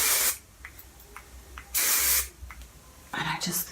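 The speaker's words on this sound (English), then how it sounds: "And then I will just put a little bit of this beeswax texture spray in here." Beeswax texture spray misted onto hair in three short hissing aerosol bursts, close and clear, with quiet pauses between them.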